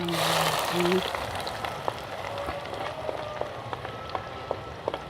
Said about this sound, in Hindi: अब मैं इसमें जो प्याज है कटा हुआ, इसमें प्याज में डालूँगी।